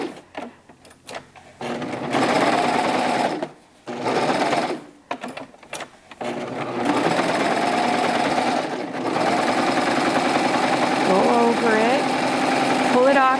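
A serger sewing machine runs over fabric in fast mechanical bursts, stopping and starting a few times before a long steady stretch of stitching, loud and close, with a voice speaking over it.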